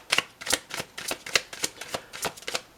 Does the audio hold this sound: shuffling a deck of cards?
yes